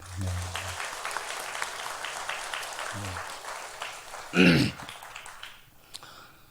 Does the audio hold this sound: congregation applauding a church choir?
yes